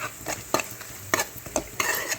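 Coconut, green chillies and garlic frying in a little oil for tempering, with a soft steady sizzle broken by repeated scraping stirs of a utensil against the pan, close and without talk.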